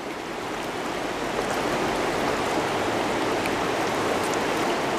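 Steady, broad rushing of river water flowing, a constant close wash of noise that holds the same level throughout with no voices.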